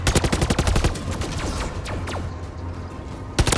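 Rapid bursts of battle rifle gunfire in Modern Warfare 3 Zombies, loud, close and sharp. Dense automatic volleys are followed by scattered shots and a final quick burst, with no talking over them.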